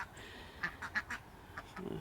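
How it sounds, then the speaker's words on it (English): Several ducks quack in short, lively bursts on an outdoor allotment plot, the calls close and fairly clear over a quiet background. "show you how the new ducks are getting on"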